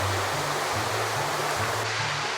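Fast-flowing Soča river on a Slovenian mountain trail, a steady loud broadband rush of water filling the whole clip, close by and unbroken, with no voices.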